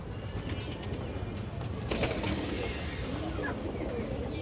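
Healthy pigeons coo softly nearby against a noisy backdrop, their low murmuring calls running on without a break and no one speaking.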